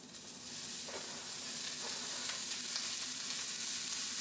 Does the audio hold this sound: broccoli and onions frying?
yes